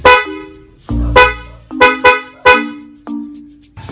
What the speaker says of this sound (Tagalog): Kung gusto nyo naman yung naka-loud horn, press nyo lang siya sa taas.